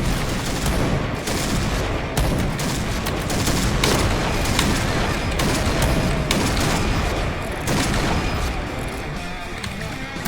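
Rapid gunfire rattles continuously in a shooting video game, dense bursts of shots overlapping with a few louder booms, loud and close throughout without a break.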